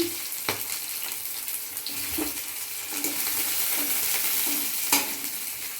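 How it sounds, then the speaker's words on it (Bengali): Chopped capsicum fries in a pan, with a steady hiss of sizzling oil and occasional clicks and scrapes of a spatula stirring. "এবার টুকরো করে রাখা ক্যাপসিকামগুলো আমি এবার ভাজতে দিচ্ছি একটু ভেজে নিচ্ছি"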